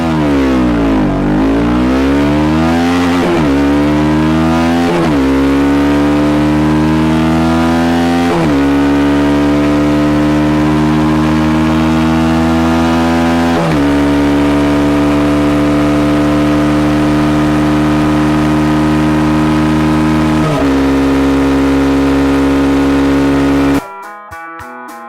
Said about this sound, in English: As you build the revs, the motor also starts to sound even better.